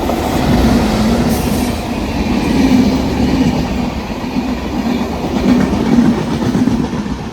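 A Rajdhani Express train passes through Koratti Angadi station in the evening, with a loud continuous rumble of rolling stock and rhythmic clickety-clack of wheels over rail joints sustained throughout, close by and without talk.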